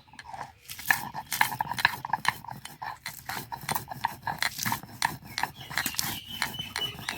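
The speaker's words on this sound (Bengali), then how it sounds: "মশলাগুলো ঠান্ডা হয়ে গেছে এখন আমি বেটে নেব" Roasted spices for raw mango pickle being ground by hand, repeated rough scraping and rubbing strokes with gritty bursts in an irregular rhythm, fairly close and moderately loud.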